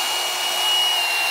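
A stubby cordless impact wrench running freely, a brief, steady high-pitched whir that holds evenly for just over a second.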